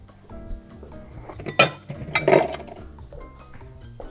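Glassware clinks while a Ranch Water is built in a small highball glass, with a few sharp clinks and brief clattering bursts near the middle over quiet background.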